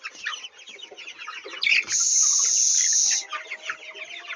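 Chickens on a poultry farm cluck and call in a busy chorus, with one loud, sustained squawk rising above the flock midway through, close and with no talking.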